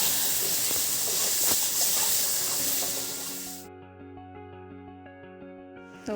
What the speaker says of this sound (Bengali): আমি এখানে আলুটাকে ভালো করে ভেজে নিচ্ছি